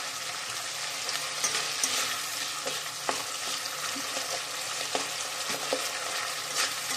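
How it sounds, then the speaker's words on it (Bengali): Spice paste sizzles and is stirred in plenty of oil in a pan at home, a steady close crackling broken by scraping spoon strokes, with no talking. "এই মশলাটাকে খুব সুন্দর করে কষিয়ে নিতে হবে"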